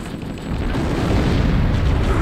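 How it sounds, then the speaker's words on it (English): Loud rumbling game explosions in Halo: Combat Evolved on the original Xbox, a dense continuous boom filling the whole moment with no talk over it. "Explosions for days!"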